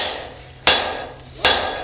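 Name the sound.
hammer strikes driving through hole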